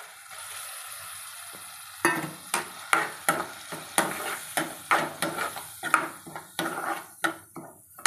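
Chaat being stirred with garam masala, chaat masala and peas in a pan: a steady sizzle with a run of sharp, regular scraping and clinking spoon strokes that start after a couple of quiet seconds, close and fairly loud.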